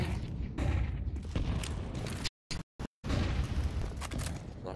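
An HE grenade in Counter-Strike on the Overpass map, a booming blast amid ongoing match noise, cut by brief gaps of silence.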